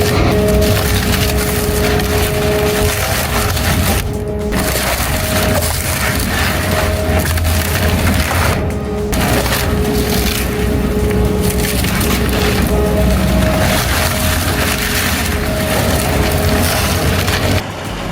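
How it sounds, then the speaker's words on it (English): A Brooks 1006 twin-shaft shredder with a 565 kW Volvo engine, its counter-rotating shafts crushing and splintering dense wood, loud and continuous with cracking bursts over a steady mechanical roar. "Those twin shafts are counter-rotating with surgical precision, tearing through dense roof like it's nothing"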